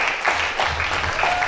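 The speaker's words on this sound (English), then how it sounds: "That applause is too small for the Vice Chancellor" Short, fairly loud burst of audience applause for a university Vice Chancellor at a faculty lecture in Nigeria, steady clapping with faint voices beneath.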